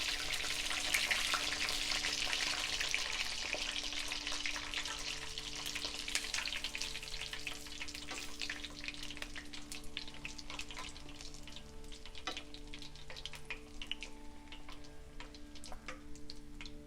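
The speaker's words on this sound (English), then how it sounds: "Once the bubble is stopped and the zucchini flowers are crisp and slightly golden color, we can take it out." Stuffed zucchini flowers frying in hot oil give off a steady, dense crackling sizzle with scattered popping bubbles, continuous and fairly close throughout, with no talking.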